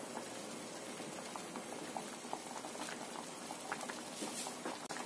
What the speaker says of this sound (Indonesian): Kita rebus sekitar 5 menit lagi ya.